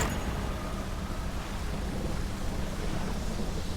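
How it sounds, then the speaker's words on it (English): A thunderstorm in the fishing game Dredge: a dense, unbroken wash of rain and low rumbling thunder with wind-like noise, steady and enveloping throughout. "Am I hearing a thunderstorm over there?"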